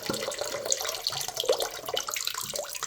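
Water streams steadily from the plumbing of a leaky Delta double shower head in a second-story bathroom, a continuous close hiss and splash throughout with no talking.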